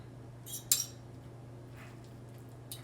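A metal spoon clinks against a muffin tin while chopped spinach and tomato are portioned into the cups for egg muffins, giving a few sharp close taps over a quiet kitchen hum.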